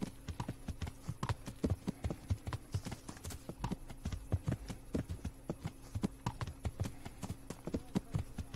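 Horse hooves clip-clop steadily in Kingdom Come: Deliverance, a regular brisk walking rhythm of hard hoof strikes, close and continuous throughout with no talking.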